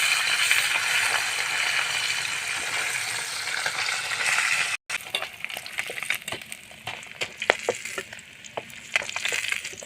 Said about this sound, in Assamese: এয়া মাছখিনি ভাজি ল'লোঁ